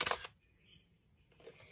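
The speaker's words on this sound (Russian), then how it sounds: "срабатывает затвор" A single-lens reflex camera fires its shutter in aperture-priority mode, a crisp close mechanical snap at the start followed by a faint whir and a softer second click.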